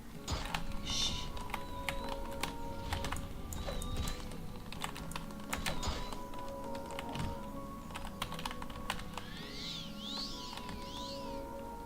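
Computer keyboard keys pressed in scattered clicks while Morrowind is played, a sharp tapping rhythm over a steady hum of game sound and background noise.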